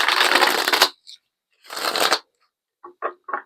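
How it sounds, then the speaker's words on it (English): A deck of cards is shuffled in two quick riffle bursts close to the microphone, each a dense fluttering rush, followed by three short soft taps as the cards are squared. "I'm going to shuffle this deck."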